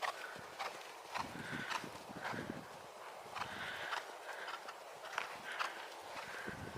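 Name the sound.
horse galloping during riding session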